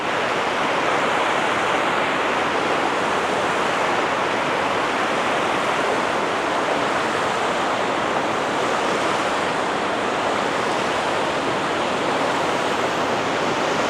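Water pours fast through a wooden sluice shutter in a loud, continuous, even roar that stays close and unbroken, with no voices.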